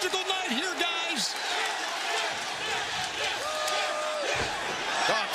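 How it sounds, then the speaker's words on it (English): A wrestling crowd fills an AEW Dynamite arena during a Grand Slam bout between Bryan Danielson and Nigel McGuinness, a steady broad roar heard under an ongoing commentator's voice. "Listen to the crowd in this wonderful venue."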